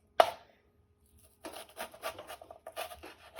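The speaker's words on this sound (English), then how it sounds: "Just finished slicing up my red onion here." A knife works through a red onion on a board, a sharp initial cut followed by a quick series of soft, faint chopping taps close by.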